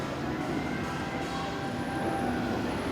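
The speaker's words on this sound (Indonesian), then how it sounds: "Ini keretanya jalan lagi guys di atas saya." Train running on an elevated track overhead, a continuous rumbling roar with faint metallic squeal tones, steady and loud throughout with no talking.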